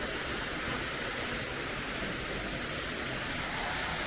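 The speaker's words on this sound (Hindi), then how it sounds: "ये देखिए, हम वाटरफॉल के भी बहुत नज़दीक आ गए हैं।" Water pours steadily at a waterfall beside Cave 27 at the Ellora Caves, a close, constant rushing hiss that fills the scene without a break.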